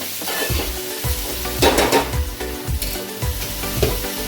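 Onions fry in a pan with a little salt, giving a loud, close sizzle under repeated rhythmic scrapes and stirs of a spatula against the pan.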